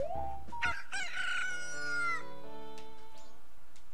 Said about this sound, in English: Now they sprout into beautiful chickens.